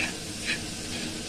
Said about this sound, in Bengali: দিয়ে আমি এখানে ভালো করে সবগুলো নাড়াচাড়া করে নেব